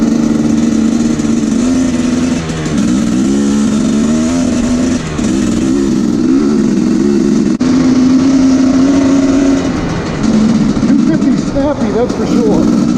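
A 2017 Husqvarna TE 250 dirt bike fitted with bib mousses, its engine buzzing steadily and close with rising and falling revs while ridden, and a rider's voice talking over it.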